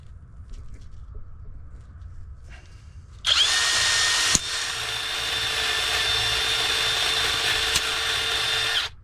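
A worn-out power drill kicks in after a quiet start with faint knocks, then whines loudly and steadily for several seconds, with a sharp click partway through and a sustained rough buzz.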